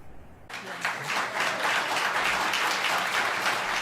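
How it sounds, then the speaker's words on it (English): A crowd at a local public meeting bursts into loud, sustained applause and cheering after a winning bidder withdraws, the clapping starting abruptly from near-silence and holding steady at full strength. "Applause from the crowd tonight after it was announced the winning bidder, Elena Campbell, decided to withdraw"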